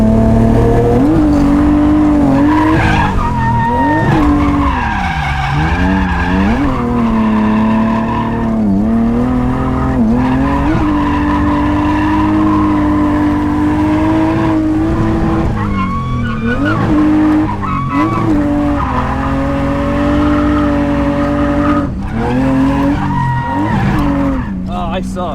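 BMW E30 drifting, engine roaring steadily at high revs while tires skid and squeal in long sweeping bursts, loud and close throughout.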